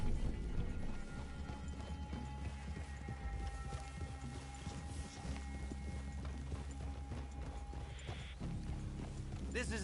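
In Red Dead Redemption 2, horses move through a woodland clearing: quiet, scattered hoof clops and tack creaks under a soft ambient bed, fairly faint throughout.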